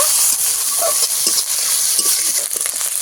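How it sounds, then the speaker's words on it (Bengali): Onion frying in hot mustard oil with panch phoron for a fish curry, a loud, dense, continuous hiss and sizzle close up, with faint stirring scrapes underneath and no speech. "পেঁয়াজটাকে কিছুক্ষণ ভেজে নেব"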